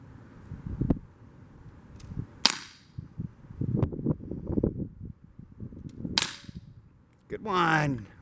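Umarex Glock 19 CO2-powered BB pistol fired on a practice range, two sharp cracks a few seconds apart, close and loud, amid movement and handling noises, followed by a rising whoosh at the end.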